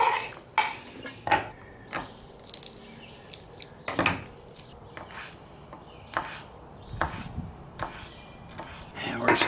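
A knife slices garlic on a cutting board at an outdoor campsite during camp cooking, giving a series of sharp, close taps at an uneven rhythm over faint background ambience.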